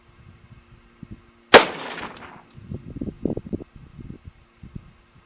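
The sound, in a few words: 300 Winchester Magnum rifle shot from bipod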